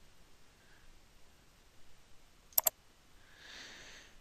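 A double mouse click on a virtual machine's play button, two sharp close clicks in quick succession over faint background hiss, followed by a soft rising whir.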